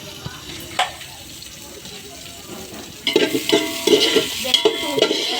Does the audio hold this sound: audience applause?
no